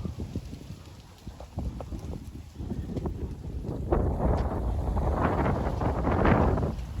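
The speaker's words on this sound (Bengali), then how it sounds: "প্রচুর বাতাস আর সেই পরিমাণে বৃষ্টি" Strong wind gusts outdoors in a cloudy riverside Bangladeshi village, with rain adding a rough, rushing noise that builds louder toward the end.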